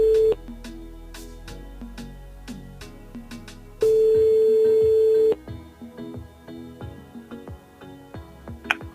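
A phone call placed from a radio show to a mobile phone, with repeated ringback tones and dial beeps, then a long steady tone followed by clicks and line noise, loud and alone.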